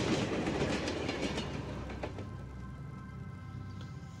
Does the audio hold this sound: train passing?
yes